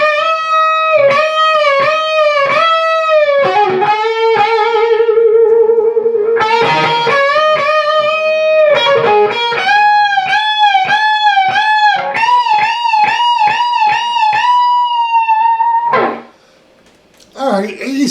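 A distorted electric guitar plays a solo, with quick picked notes, bends and sustained phrases running continuously and loud before a brief pause at the end.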